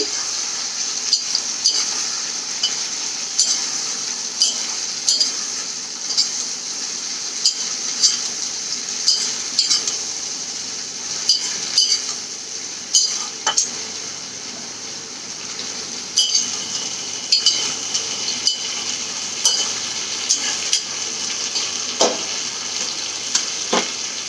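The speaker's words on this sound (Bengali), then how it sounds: "এবারে আমি সুন্দর করে মিশিয়ে দিচ্ছি" Malabar spinach with mustard and coconut sizzles steadily in a hot pan while a utensil stirs and scrapes it, with frequent close clinks and scrapes over the constant frying hiss.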